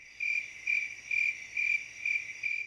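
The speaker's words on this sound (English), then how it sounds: "Crickets." Crickets chirp in the credits music of the video game Hokus Pokus Pink, six evenly spaced shrill pulses repeating steadily and clearly over a quiet background, with no voices.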